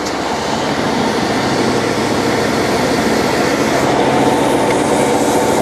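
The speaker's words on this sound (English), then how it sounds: "We're in the pipe, and then I'm going to throttle up." Cold water sewer jetter throttled up with its hose in a pipe, giving a loud, steady, dense mechanical roar and rush that holds constant and swells slightly toward the end.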